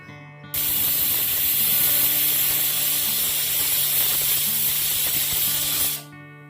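A pressure cooker on a gas flame, with chicken ghugni cooking inside, lets out a long, loud, steady hissing whistle at close range for about five seconds, then it cuts off.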